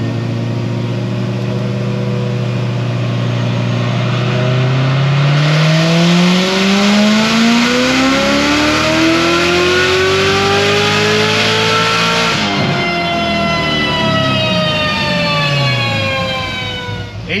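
A Corvette C7 Z06 with an RPM Stage 4 build runs a loud full dyno pull on pump gas, the engine note climbing steadily for seconds to a sustained high-rev roar before dropping off abruptly near the end.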